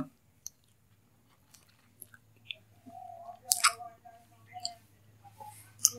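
Quiet, close chewing of a spoonful of homemade cold remedy, with soft irregular crunches and mouth clicks and a faint low hum underneath.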